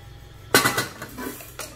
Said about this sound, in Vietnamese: cái nồi này cũng không dày nha,